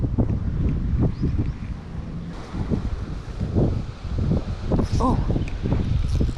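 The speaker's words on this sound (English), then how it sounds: "what's good is the wind is gonna help us" Strong wind roars across the microphone while fishing from a boat with hard lures, a steady low rumble of gusts lasting throughout, with faint voices and water sounds mixed in.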